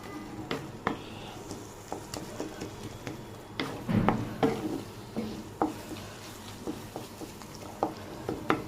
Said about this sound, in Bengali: আস্তে আস্তে করে নাড়তে থাকবো লো ফ্লেমে।